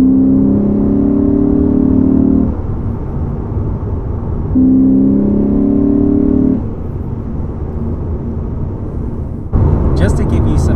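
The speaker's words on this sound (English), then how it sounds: "The V8 engine sounds so good at startup, especially when hitting the gas just for the fun of it." A Lexus RC F's V8 engine roars through two rising revs at startup separated by a lower idle, loud and close, followed by a brief burst of higher-pitched mechanical noise.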